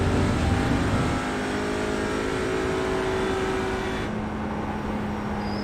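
A front-wheel-drive car's engine in the iRacing sim drones loudly and steadily, shifting tone slightly partway through, alone with no talking.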